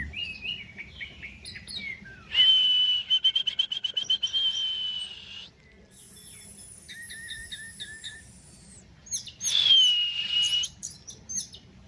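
A six-month-old orange-headed thrush (anis merah) sings in loud bursts outdoors in the sun: a rapid trilled phrase, then high sustained whistles and a final quick flourish, with faint insect-like buzzing underneath.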